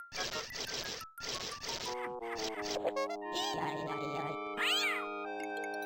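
Cartoon cat meows in the Sid and Al's Incredible Toons MS-DOS game, a few loud squeaky calls up front followed by bright tonal game sound effects and music.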